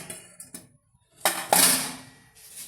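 Metal pots clank as an idli steamer is set up in a home kitchen, a few close, sharp knocks and rattles with a louder clatter of metal and lid near the end.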